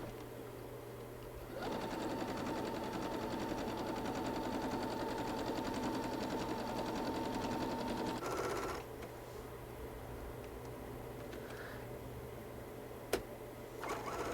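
A sewing machine running a top stitch on a hoodie seam, a steady mechanical whir for several seconds that stops, followed by quieter handling sounds and a faint click.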